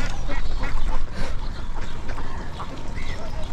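A flock of ducks quacks on a rural duck farm in a village, with dense, overlapping nasal calls close by and continuous, fairly loud chatter across the whole stretch, mixed with some outdoor background noise.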